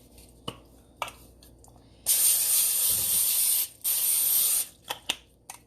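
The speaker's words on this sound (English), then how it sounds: "go ahead and spray your pan" Cooking spray hisses from a can onto a pan in two bursts, the first longer than the second, loud and close, with faint kitchen clicks before and after.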